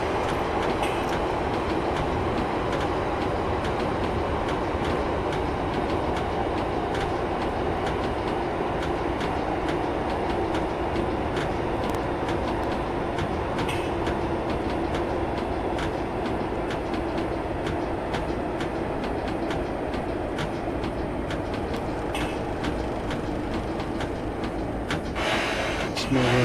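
Simulated locomotive wheel slip on the Great Western Mainline between Oxford and Reading in Train Sim 2020, heard as a continuous heavy rail rumble with rattling clicks throughout and a voice talking over it now and then.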